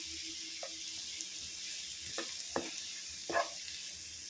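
Crushed dried chilli and pepper sautéing in a pan for white sauce pasta, a steady soft sizzle with a few scraping stirs close by.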